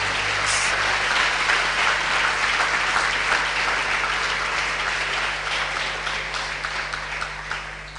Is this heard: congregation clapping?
yes